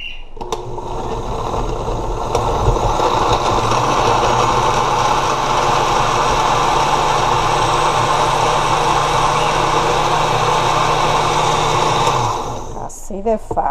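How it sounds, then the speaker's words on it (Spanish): A kitchen blender purees tomato for a red bean sancocho, running as a steady, loud whirring drone for about twelve seconds before cutting off abruptly. "Lo tapo y vamos a licuar."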